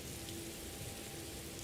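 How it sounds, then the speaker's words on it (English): Steady rain falling in the fantasy game Morrowind, a soft, even, continuous hiss with no distinct drops, fairly quiet and alone. "I'm soaking wet from the rain"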